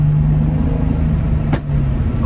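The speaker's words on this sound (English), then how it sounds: "We're gonna do a few more pops going over the bridge here" A Toyota Supra engine drones loudly and steadily from inside the car as it cruises over a bridge, with one short sharp pop about midway.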